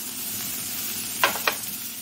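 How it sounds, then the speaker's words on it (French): Sliced onions sizzling in a little olive oil, a steady close hiss with two brief louder crackles of stirring midway. "je cuis mes oignons émincés dans un peu d'huile d'olive"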